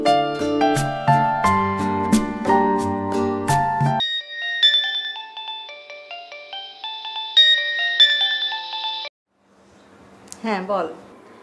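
A mobile phone ringtone plays a bright electronic melody, first as a dense chiming tune and then as a thinner repeating pattern, before a short pause and a brief voice.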